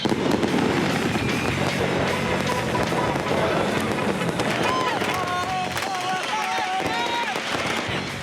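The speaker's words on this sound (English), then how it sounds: "Every kid above the age of 5 seems to have been issued a lighter and a fistful of fireworks." Fireworks and firecrackers going off in a crowded public square amid celebrations guarded by civilian militias, a dense loud crackle of bangs and whistling rockets over constant crowd noise and shouting.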